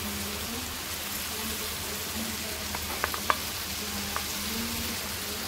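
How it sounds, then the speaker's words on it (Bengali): Tomatoes go one by one into a shortcut egg and tomato dish frying in a pan; a continuous sizzle runs throughout, broken near the middle by a few soft taps and plops. "আমরা এখন একটা একটা করে টমেটো দিয়ে দেব।"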